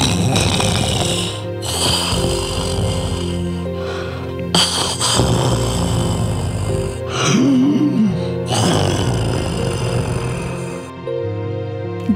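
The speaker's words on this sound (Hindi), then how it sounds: "गुफा के अंदर एक भयानक राक्षस लेटा हुआ सो रहा था और भयंकर आवाज वाले खर्राटे ले रहा था।" A monstrous demon lies asleep inside a cave, snoring loudly and roughly in long, heavy breaths that rise and fall across the whole stretch, with deep rumbling snorts and no talking.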